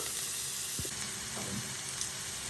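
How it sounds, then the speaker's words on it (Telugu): Onions fry in hot oil over a medium flame, giving a steady, close, dense sizzle with a faint stir partway through. "ఆయిల్లో ఫ్రై అవుతుంది"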